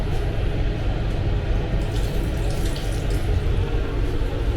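A tap in the toilet washroom of a Vande Bharat train runs in a steady, close rush of water into a basin, with no talk over it.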